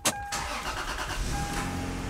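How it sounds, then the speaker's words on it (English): A car's engine cranks and catches with a sharp burst, then settles into a steady idle, heard from inside the vehicle before recharging its R134a air-conditioning system. "we're gonna start the car up"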